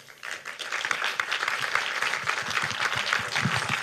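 A conference audience gives a full round of applause after a talk, with dense clapping swelling in quickly and staying steady and loud throughout.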